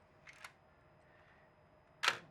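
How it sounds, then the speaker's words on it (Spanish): A camera's curtain shutter fires in two short mechanical clicks, a soft one and then a sharper, louder snap, close up in an otherwise quiet room. "Ese es el obturador de cortina de la cámara"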